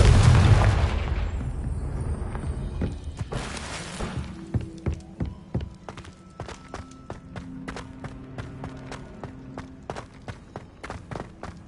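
A Confringo blasting curse in Hogwarts Legacy erupts in a loud, close boom that rolls into a long rumble, followed by scattered clicks, thuds and footsteps as the din fades.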